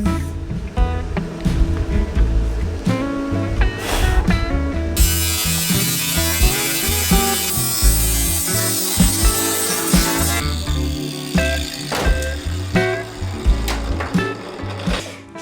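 Tack welding on the underside of a Land Cruiser roof during restoration, a steady, close buzzing crackle with short broadband bursts, continuous and loud throughout.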